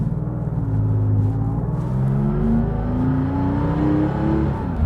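A lightweight Porsche 911 R with short gearing and little sound insulation revs hard while driving, heard loudly from inside the cabin as the engine note climbs and falls in pitch through the gears, with no talking.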